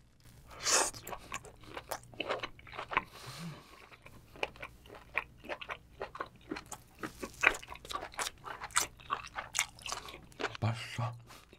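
Giant conch (turban shell) seafood with gochujang sauce is chewed up close, with wet, crunchy bites and squishy chewing in an irregular rhythm and short pauses between mouthfuls.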